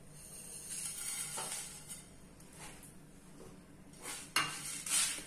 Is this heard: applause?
no